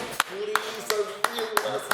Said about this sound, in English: So, thank you very much, candidates, for your speeches. A round of applause.